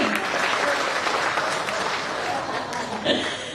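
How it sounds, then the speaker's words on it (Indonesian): Steady applause from an audience at a Kodim 0906 military territorial development contest, honoring the Indonesian armed forces (TNI), dense and sustained throughout with a brief louder swell near the end. "Sekali lagi tepuk tangan untuk TNI"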